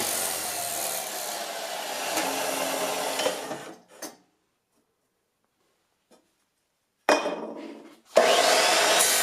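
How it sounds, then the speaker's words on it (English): Chop saw cutting 1-inch square steel tubing, a loud abrasive grinding rasp for a few seconds, then a pause, then two shorter cutting bursts close up. "The chop saw easily makes little pieces out of big ones."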